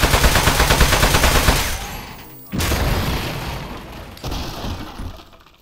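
Rapid automatic gunfire in the video game Aperture Desk Job, a dense rattling burst that cuts off, followed by a loud impact and a further blast fading out.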